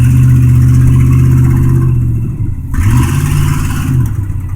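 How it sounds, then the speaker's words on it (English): A pickup truck's engine revs hard on an icy road as its tires spin, a loud, close, steady drone that dips briefly and then climbs again. "Ooh, tires spinning a little bit,"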